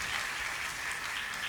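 Dense, steady applause from a church women's conference audience, a continuous hiss of many hands clapping at moderate distance with no talk over it.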